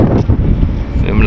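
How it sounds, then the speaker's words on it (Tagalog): Strong wind buffets the microphone at a shoreline boat landing, a steady loud rumble with gusty swells throughout the short moment. "So yung malakas ang hangin."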